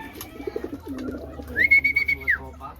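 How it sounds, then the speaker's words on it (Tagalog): Racing pigeons in a loft give one clear drawn-out call over a low steady hum, with faint bird chatter and small knocks around it, fairly close. "Yan mga kalapatids"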